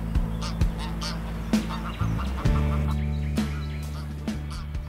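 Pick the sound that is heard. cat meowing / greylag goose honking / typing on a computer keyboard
greylag goose honking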